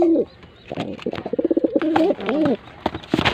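A pigeon coos in repeated soft, throaty bursts close by, with a few brief rustles and faint background noise between calls.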